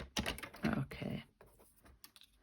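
Brief bursts of clicky keystrokes on a computer keyboard as measurements are typed up, close and fairly quiet, with short pauses between clusters of taps.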